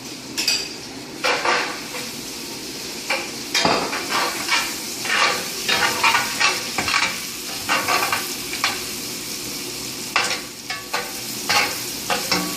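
Mushrooms and beans sizzle and fry in a pan as a utensil stirs and scrapes it in repeated bursts, with occasional clinks of metal.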